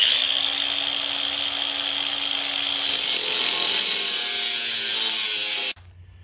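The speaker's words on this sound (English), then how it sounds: "even the grinder doesn't want to cut on it" An angle grinder cuts into a brand-new steel rear bumper on a 6.0 Ford Excursion build, a loud, steady, harsh whine that runs close and continuous for nearly six seconds before stopping abruptly.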